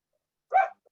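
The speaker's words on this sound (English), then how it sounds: "we hear a dog barking." A single short dog bark or yelp, brief and moderately near, followed by a tiny faint after-sound, otherwise silent.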